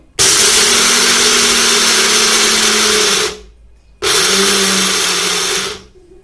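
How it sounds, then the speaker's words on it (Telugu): A kitchen mixer grinder grinds peanuts in its jar, running as two loud, steady whirring bursts of about three seconds each, separated by a short pause. "ముందు పల్లీలు గ్రైండ్ చేసుకుందాం మిక్సీ జార్లోకి తీసుకుందాం"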